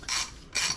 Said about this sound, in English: I can start wrenching at it.